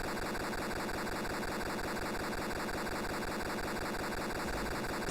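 Air-conditioning-destroyed sound from the video game Petscop: a loud, steady mechanical drone with a rapid rhythmic low chugging beneath a hissing wash, unchanging throughout with no other sounds.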